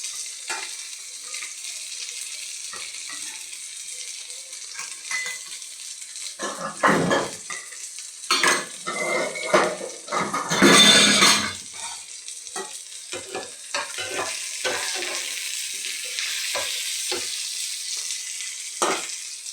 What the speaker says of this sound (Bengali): হালকা একটু ভেজে নেব রসুনটা।